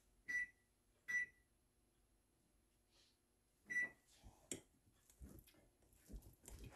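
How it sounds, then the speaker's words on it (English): Three short electronic beeps from a microwave signalling melted butter is ready, fairly close, followed by faint shuffling and kitchen noises. "Microwave keeps beeping because that butter's ready."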